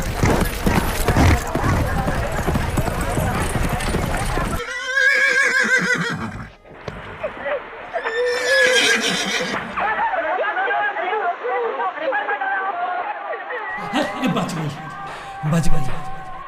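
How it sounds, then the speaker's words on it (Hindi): A spooked horse pulling a tonga whinnies loudly in a Hindi radio play dramatisation of Usne Kaha Tha, with clattering hooves and excited crowd voices and chatter around it, all close and busy. "उसका घोड़ा बिगड़ गया है, हट जा, हट जा।"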